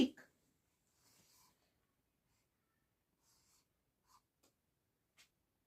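Marker or chalk strokes writing Hebrew letters on a board come as faint, brief scratches and squeaks in short separate bursts amid long quiet gaps, with a soft breath at the start.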